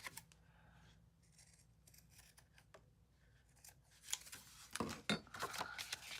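Scissors trimming craft material for a portrait piece, a series of soft close snips and rustles at a quiet level, growing louder and busier near the end.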